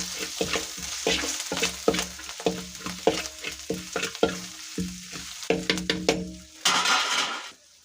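Curry leaves and ginger paste sizzling in hot oil in a pan while a spoon stirs and scrapes in quick repeated strokes, frying hiss under clinks near the end.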